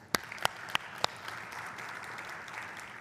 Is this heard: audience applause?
yes